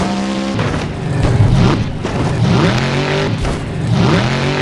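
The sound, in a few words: monster truck engine revving, driving over crushed cars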